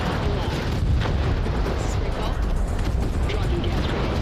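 Gas grenades firing in the video game Crossfire: Legion, a dense, continuous roar of booming blasts and rumbling explosions that fills the whole stretch at high loudness.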